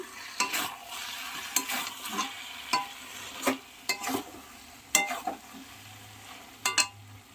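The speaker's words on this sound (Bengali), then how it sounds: "এক চামচ ঘি দিয়ে ভালো করে নেড়ে চেড়ে নেবো।" A spoon scrapes and stirs fish-head muri ghonto with ghee in a pan, giving irregular, close clinks and scrapes over a soft sizzle, with no talk.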